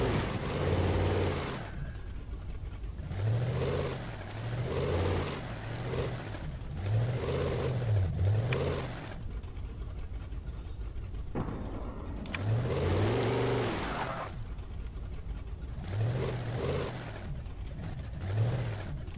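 Car driven in the video game Alan Wake Remastered, its engine revving in repeated rising and falling surges with shifts between gears, loud and close with no talk.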